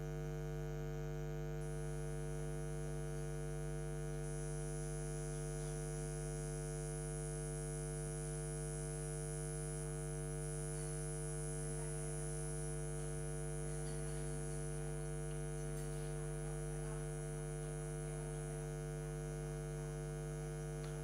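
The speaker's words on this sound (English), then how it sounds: "the aircon's terrible here" An indoor air conditioner gives off a steady, unbroken electrical hum with a buzzy edge, constant and fairly quiet throughout, with no one speaking.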